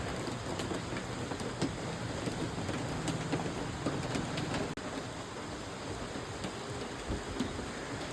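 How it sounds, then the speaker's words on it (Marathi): Steady monsoon rain pouring down outdoors with a dense, even patter of drops, with a brief click partway through. "खूप सुंदर असं वातावरण होतं पावसाचं"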